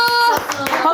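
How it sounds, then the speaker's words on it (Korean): Brief hand clapping in a Korean talk show studio, a few quick claps mixed with a voice over one second. "박수."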